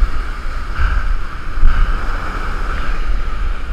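Ocean waves surging onto rocks in high seas during a tuna fishing trip, a steady loud roar of wash and spray with heavy wind rumble on the microphone, no voices.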